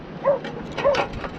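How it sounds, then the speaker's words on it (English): A dog in the background gives two short yelping barks about half a second apart, mid-distance and moderately loud, heard outdoors where someone is setting up a camping gas stove. "that's the dog in the background."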